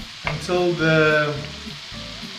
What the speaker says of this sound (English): now it's on high heat, you can hear it's frying